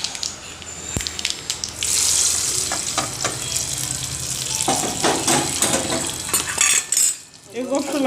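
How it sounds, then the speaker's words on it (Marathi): Vadas made with fresh peas frying in oil on a low gas flame, a steady close sizzle with occasional clinks of a metal utensil against the pan and brief stirring. "लक्षात ठेवा मंद गॅसवरच वडे तळायचे वडे तळताना थोडा वेळच लागतो"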